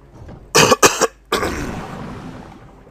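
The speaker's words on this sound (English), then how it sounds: "Sorry about the coughing." A person coughs several times in quick succession, loud and close, with a short pause before a final rougher cough that trails off.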